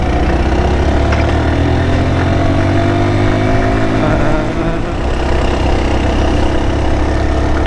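A motor vehicle engine pulls uphill in third gear on a hill road in Bandarban, Bangladesh, a steady loud drone with rising tones running continuously from start to end.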